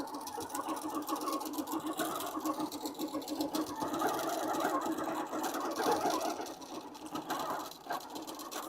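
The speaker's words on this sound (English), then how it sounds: "the machine is going to sew itself" A sewing machine with a built-in stitch regulator automatically stitching a feather pattern, a steady rapid mechanical whirring and clatter that runs continuously, close and moderately loud, with slight dips in pace.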